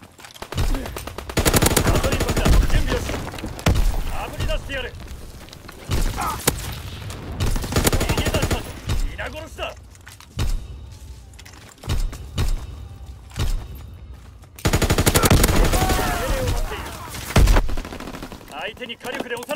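MG15 machine gun fire in Call of Duty WWII, loud sustained automatic bursts broken by short pauses, mixed with other battlefield gunfire and impacts, with occasional voices.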